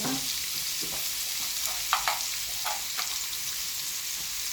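Brinjal pieces frying in a pan with a little salt, a constant hiss of sizzling oil with several soft scraping stirs scattered through, close by and without voices.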